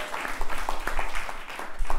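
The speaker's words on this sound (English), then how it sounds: "So please join me in giving them a round of applause." Audience applause at a program on violence and youth in Mexico, a steady wash of clapping at moderate level running through the whole stretch, with no speech over it.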